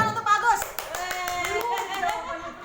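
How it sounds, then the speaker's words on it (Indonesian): A group at a school session claps for a participant named Bagus, a few seconds of brisk scattered hand claps under light chatter and a voice. "Tepuk tangan untuk Bagus."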